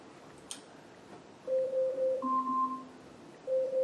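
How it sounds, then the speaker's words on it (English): A smart speaker timer alarm goes off after a quiet moment, playing a repeating pattern of clear electronic tones, loud and close, with no talking. "And that's the alarm."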